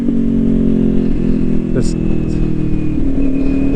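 A 2021 Kawasaki Ninja 400 with a slip-on exhaust idles and revs up close, a loud steady drone with a sharp crackle midway, while a rider talks over it.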